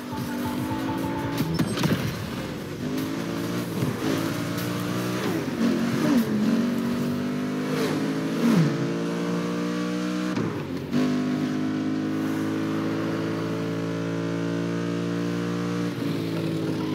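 A Porsche 911's engine revs and shifts through gears while driving in The Crew Motorfest set in Hawaii, a steady close mechanical drone with rising and falling pitch and no talking.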